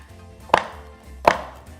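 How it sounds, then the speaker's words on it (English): A serrated knife chops a block of chocolate on a non-slip cutting board, two sharp, close, distinct cuts about three quarters of a second apart over quiet background. "I like to use a serrated knife to chop my chocolate"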